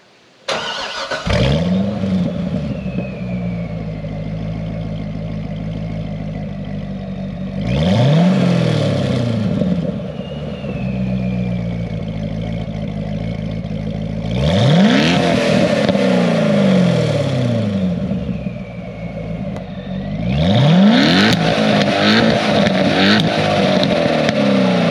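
A supercharged Corvette's exhaust revs hard four times, each pull climbing then falling back to a steady idle, loud and close with no talking.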